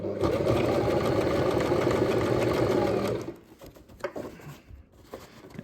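Sewing machine stitching yacht cushion covers, running loud and steady for about three seconds, then stopping, leaving quieter room sounds and handling noise.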